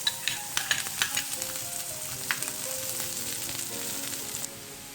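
Finely chopped garlic frying in oil in a pan after chicken, a loud continuous sizzle with crackling pops that are busiest at the start, then an even hiss that drops off at the end.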